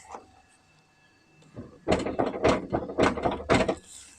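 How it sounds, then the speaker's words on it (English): A worn-hinged door on a 53-year-old Toyota TA22 Celica swings open and sags, giving a quiet click and then a run of loud, close rattling metallic clunks and scrapes, with no talk over it. "So when you open the door, it drops."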